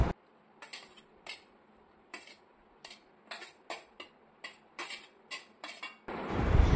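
Long beans dropped into a mixer jar, a series of light, sharp clinks and taps spaced irregularly, close and fairly quiet, ending in a louder rustling clatter.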